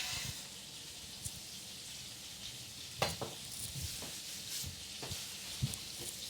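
Shrimp cooking in a pan, a steady close sizzle and crackle with a few sharper pops and a light tap or stir, continuing evenly with no talking.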